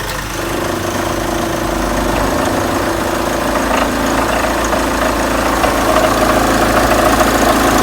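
A Mahindra XUV500 engine idles steadily after start, a continuous low rumble with a faint knocking pulse and dashboard vibration, loud and close throughout with no talk.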